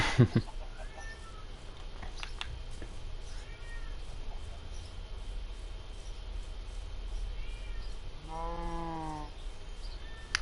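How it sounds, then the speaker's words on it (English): A cat meowing indoors, several separate meows scattered over the clip, including one long drawn-out wavering cry near the end, under a steady background hum. "I have this cat that's meowing so much"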